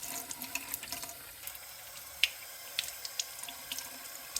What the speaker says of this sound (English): we just want to give our fresh vegetables a wash